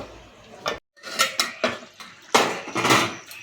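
A metal lid clanks onto a cooking pot of chicken curry with elephant foot yam on the stove, several sharp close clattering knocks and scrapes in quick succession.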